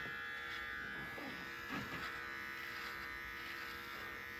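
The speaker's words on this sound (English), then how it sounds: "all I gotta do is push the trimmer" An electric beard trimmer buzzes continuously at close range while being pushed down along the neckline, a steady whine with slight shifts as it moves over hair.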